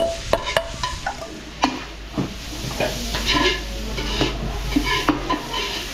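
Garlic and onions sautéing in a pan for carbonara at a Filipino catering kitchen in Porac, Pampanga, sizzling under brisk stirring and clinking utensil strikes, close and continuous with no talk.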